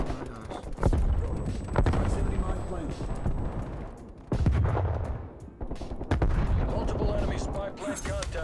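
Gunshots crack and boom in a Call of Duty Cold War match, heavy, repeated and continuous, with a voice talking over the fire throughout.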